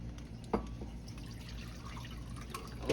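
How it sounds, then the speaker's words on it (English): Rendered fat from a roasted duck is spooned and poured back over the bird with tongs; faint drips and small liquid splashes land in two brief bursts over a low, steady kitchen hum. "Just kind of pour it right back on top of that, just like that, y'all. That's going to just baste."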